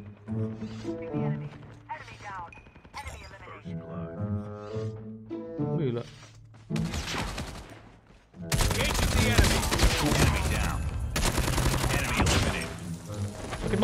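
Gunfire in the video game Call of Duty Mobile, starting under someone talking and turning into loud, dense rapid bursts of automatic fire in the second half.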